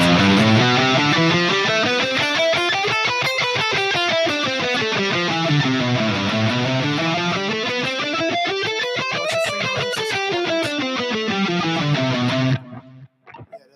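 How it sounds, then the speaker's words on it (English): An electric guitar with a slight echo and grit runs quickly up and down scales in a continuous flowing stream, then fades out at the end. "little bit of delay on my sound at this moment"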